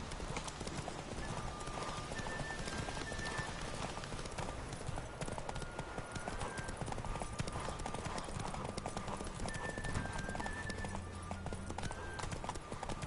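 Rhythmic hoofbeats clip-clop steadily throughout as a horse gallops in The Witcher 3: Wild Hunt, fairly quiet, with faint tonal game sounds above.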